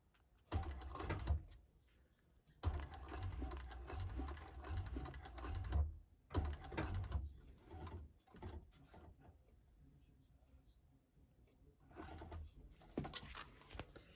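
Sewing machine stitching a tote bag in bursts, a rapid mechanical chatter that starts and stops several times with quiet pauses between runs; no speech.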